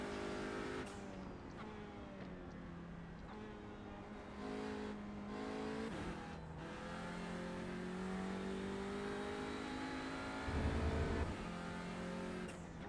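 An Audi RS3 LMS TCR race car in the sim racing game iRacing drones with a steady, buzzy engine note, revving up and down through gear changes with brief lifts and one deeper low burst near the end.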